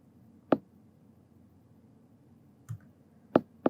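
A computer mouse clicks sharply and quietly in a quiet room, one click early on and then a faint tap, followed by a quick double click near the end.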